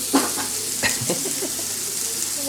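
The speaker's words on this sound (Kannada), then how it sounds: "ಹಾಗೆ ಅದು ಫ್ರೈ ಆಗ್ತುಂಟು." Food fries in a pan on a home stove, a steady sizzle beneath a few clattering stirs near the start, close and moderately loud throughout.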